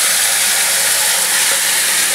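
Marinated chicken with mustard oil, yogurt, turmeric and salt dropped into hot oil, giving a loud, steady broadband sizzle and hiss throughout, close and uninterrupted.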